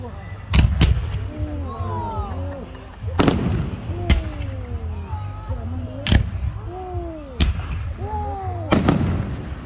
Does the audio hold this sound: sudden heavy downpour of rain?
no